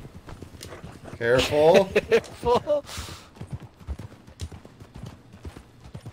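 Horses gallop in the video game Red Dead Online, their hooves drumming in a rapid, rhythmic clip-clop. Players' voices talk loudly over the hoofbeats throughout.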